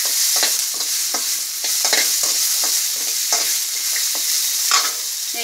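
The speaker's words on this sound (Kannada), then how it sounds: "ನೆಕ್ಸ್ಟು ಎರಡು ಈರುಳ್ಳಿ ಹಾಕ್ತಿದ್ದೀನಿ, ಸ್ವಲ್ಪ ಫ್ರೈ ಆಗಲಿ" Two onions with one green chilli fry in a pan while being stirred, giving a loud steady sizzle broken by regular scraping strokes of the spatula, close up and without talk.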